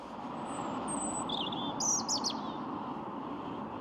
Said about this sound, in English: Listen to the robin